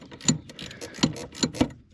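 Ratchet wrench clicking while tightening a part in a car engine bay, a few sharp close ticks spaced irregularly, fairly faint with no talk.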